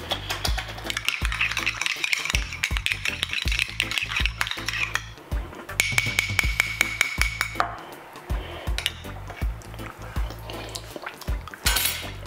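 A salad being stirred in a bowl after salt and black pepper are added, giving steady, close clinks and taps of a utensil against the bowl that repeat throughout.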